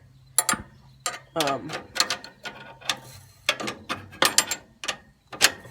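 A ratchet clicking in quick bursts while a nut is turned onto a custom tie rod end bolt, the sharp close clicks coming in uneven runs for several seconds.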